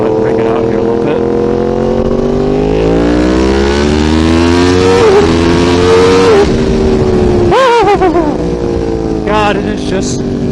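2016 Yamaha R1 motorcycle engine accelerating hard, a loud, close roar climbing through the revs with short dips at quick upshifts, alone without talk.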